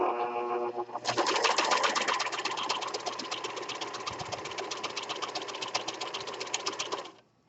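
A serger overlock sewing machine stitches lightweight knit fabric, a fast, steady mechanical whir and clatter starting abruptly and running close and continuous for about six seconds before stopping, no speech.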